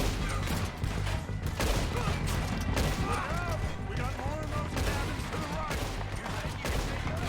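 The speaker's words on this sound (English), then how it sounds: "You can fire quickly from hip by just tapping the fire button." Rapid hip-fire gunshots from a revolver-era weapon in Red Dead Redemption 2, a dense, continuous volley of cracks layered over loud game ambience and music, close and steady throughout.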